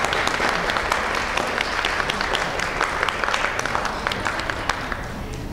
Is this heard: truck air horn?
no